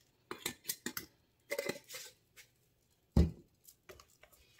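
A whisk works sugar into cookie dough by hand in a bowl, giving a few quick clinking scrapes in short bursts with one sharper knock, close and fairly quiet.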